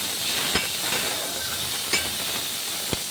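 Chopped onion, green chillies and tomato fry in a hot pan for gongura pachadi, giving a steady broad sizzling hiss broken by a few sharp metallic clinks of a utensil against the pan.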